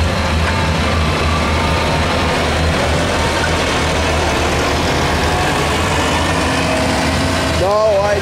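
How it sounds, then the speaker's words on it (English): An Oliver 6145 tractor engine runs steadily nearby, a continuous low idling rumble with even harmonic drone for the whole stretch, a brief tonal sound near the end. "Tractor, the 6145 Oliver."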